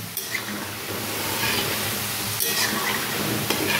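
Pantua sweets made from potato and flour fry in hot oil while being stirred, giving a steady close hiss and crackle with faint scraping from the stirring, no voices.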